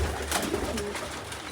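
Pet pigeons coo close by in a brief, soft burst of low throaty calls.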